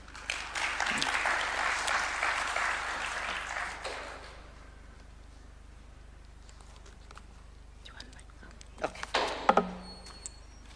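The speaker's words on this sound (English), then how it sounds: "Another round of applause." Audience at a political launch event applauds after a speech, a few seconds of steady clapping that fades into quiet room noise, followed by a short burst of shuffling and knocks.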